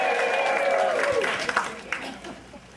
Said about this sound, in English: So let's hear you applaud and cheer.